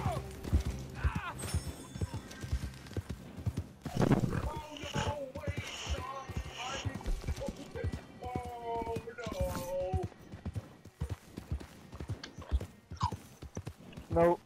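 Horse hooves clip-clop at a steady walking rhythm in Red Dead Redemption 2, with a horse whinnying briefly, mixed under people chatting casually throughout.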